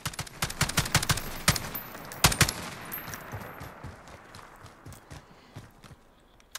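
Gunfire from an STG77 rifle in Call of Duty Modern Warfare, shifting from spaced single shots to rapid full-auto bursts, loud and sharp over a busy game background with no talk.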